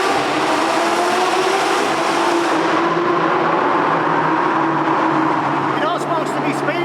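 A loud car engine drones steadily throughout, its buzzy, high-revving note like a moped, heard from inside the cabin with a constant road-noise roar and no talking.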